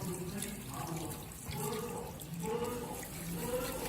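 Gentle tap water runs steadily while fish is rinsed at a sink, a soft continuous trickle with faint splashing and light clatter throughout.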